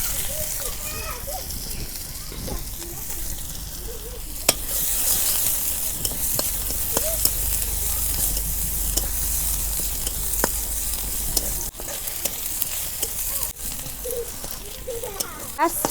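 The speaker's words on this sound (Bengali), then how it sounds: "পেঁয়াজ কুচি দিয়ে দিলাম।" Chopped onion sizzles in hot oil in a pan for a starfruit fish curry, a steady soft crackle with occasional sharp clicks of a utensil, while children talk and play in the background.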